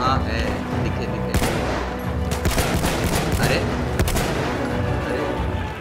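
Several sharp gunshots in Battlefield 1 crack out in an irregular burst, some close and loud, amid rumbling noise and scattered clatter.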